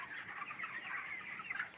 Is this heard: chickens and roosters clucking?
yes